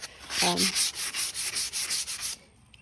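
Sandpaper rubbed over a small wooden craft piece, a run of about ten quick, even back-and-forth scratching strokes, close and clear, then stopping.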